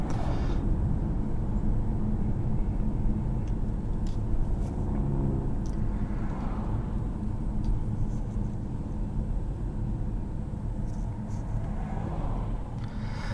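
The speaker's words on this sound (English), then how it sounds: "I'm driving this one here in sport mode." A 2021 BMW 540i M Sport driven in sport mode, heard from inside the cabin as a steady, deep engine and road rumble that runs evenly throughout.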